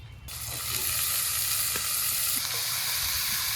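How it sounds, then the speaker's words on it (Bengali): Vegetables fry in hot oil with black cumin and onions, giving a steady, close sizzle that rises quickly and holds as a dense hiss, with a few faint clinks of stirring. "সবজির সাথে একসাথে ভাজা হবে।"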